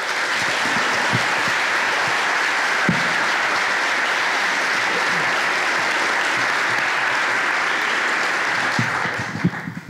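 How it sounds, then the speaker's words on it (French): Sustained applause from a live storytelling evening audience welcoming Johan, steady and full for nearly ten seconds with a few sharper claps and a small cheer before it fades at the end. "Merci d'applaudir Johan."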